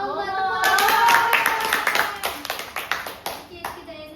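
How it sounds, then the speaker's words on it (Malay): A classroom of pupils claps hands: a few seconds of voices, then a quick burst of applause that thins into scattered, separate claps. "tepuk tangan"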